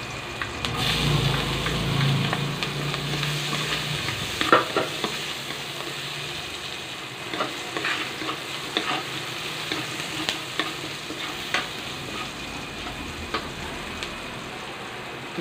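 Onion and garlic sauté in a pan for chicken adobo, a soft steady sizzle with occasional scraping and stirring clicks, close and fairly quiet, with no voices.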